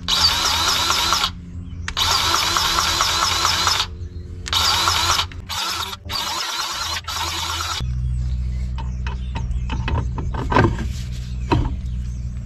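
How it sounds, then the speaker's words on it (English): Powered grease gun working on the chassis of a 1952 Willys Overland 4x4 truck, running in several long whirring bursts with brief pauses, then giving way to quieter clicks and clunks near the end. "get yourself a uh, powered uh, grease gun"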